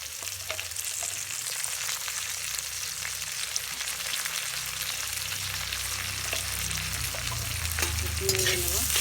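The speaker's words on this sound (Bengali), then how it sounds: "একটু ভাজা ভাজা করে নিয়েছি, কাজু কিশমিশটা দিয়ে একটু ভাজা ভাজা করে নেব।" Cashews and raisins fry in two spoons of ghee for a dhaba-style fried rice, a steady, close crackling sizzle that runs throughout with occasional scrapes of a stirring spoon against the pan.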